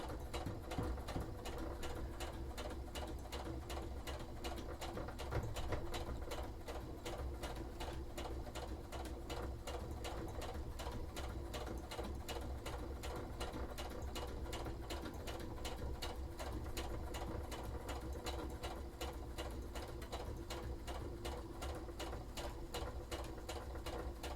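Sewing machine running steadily while top stitching a shirt for an Artillery Witch cosplay, a continuous fast mechanical whirr with rapid needle ticking, close and even throughout with no talk.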